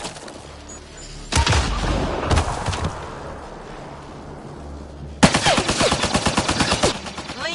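Gunfire in the video game Mass Effect Andromeda: loud shots crack out around the start, then after a lull a rapid automatic burst rattles for about two seconds, close and dominant.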